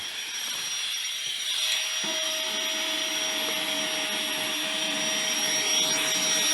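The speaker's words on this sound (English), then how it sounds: "GIGA pump." A GIGA PUMP 2.0 electric portable air pump running, a steady close whirring motor drone with a high whine that rises in pitch partway through as pressure builds.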